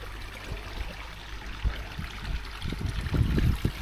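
Water trickles and splashes down a small waterfall in a natural garden koi pond, a close, uneven dribbling and gurgling that grows busier and louder toward the end, with no talking.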